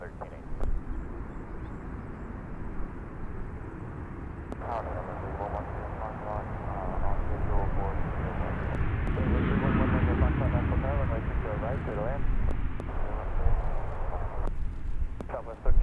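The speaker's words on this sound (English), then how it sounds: "And a few more aircraft lining up for a departure." Airliner departing Nashville International Airport, a steady broadband engine roar that swells toward the middle and holds, heard under continuous air traffic control radio chatter.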